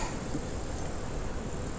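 Honey bees buzzing at a hive that has been robbed out, a dense continuous drone filling the air close by with no voices.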